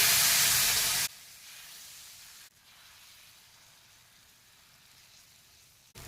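Wheat rava dosa batter meets a hot griddle with a loud bright hiss that drops abruptly after a second to a softer, steady sizzle, then quiets further and flares briefly at the end.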